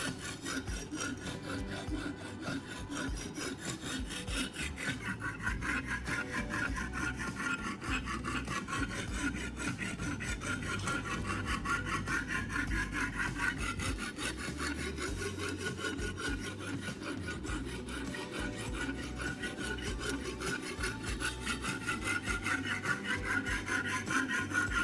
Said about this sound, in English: I apply moderate steady pressure as I run the blade across the stone, ensuring the force remains consistent throughout the stroke.